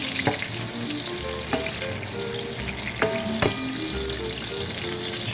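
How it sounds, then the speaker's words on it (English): Chunks frying in a few teaspoons of hot oil for fried rice, a steady close sizzle broken by occasional sharp clacks of a utensil stirring in the pan, with no talk. "Add in 4 teaspoons of oil. Add in the chunks."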